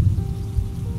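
Rain comes down outdoors in a brief, dense patter with a low rumble underneath and a faint held tone in the background.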